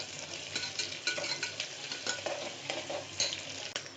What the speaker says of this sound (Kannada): 2 ಈರುಳ್ಳಿ ಹಾಕಿ ಚೆನ್ನಾಗಿ ಫ್ರೈ ಮಾಡಬೇಕು. ಈರುಳ್ಳಿ ಎಲ್ಲ ಸ್ವಲ್ಪ ಚೆನ್ನಾಗಿ ಫ್ರೈ ಆಗಬೇಕು